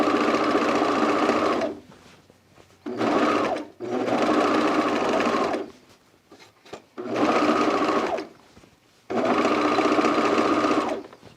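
A serger sewing machine stitches fabric for a dress, running in four loud, steady whirring bursts separated by short quiet pauses.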